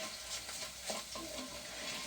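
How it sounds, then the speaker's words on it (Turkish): A wooden spoon stirs tomato paste into potato stew in a medium pot, with soft scraping strokes over a low, continuous sizzle. "Bir dolu dolu tahta kaşıkla bir dolu kaşık salça arkadaşlar."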